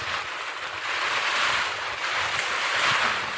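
Steady surf rolls in at a beach in Puerto Azul, Philippines, with a broad hiss of breaking waves, swelling and easing in soft surges, with some wind rushing across the microphone.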